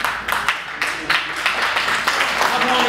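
Guests at a wedding reception clap steadily throughout, a dense crowd applause with voices mixed in and no pauses.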